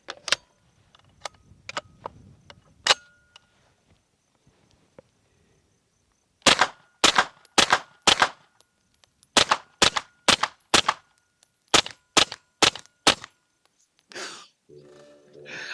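Suppressed gunshots fired through an Octane 9 suppressor with 115 grain 9mm rounds, sharp cracks in spaced groups including quick back-to-back pairs, with some handling clicks and faint rustle between shots.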